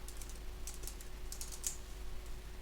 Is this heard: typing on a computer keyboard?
yes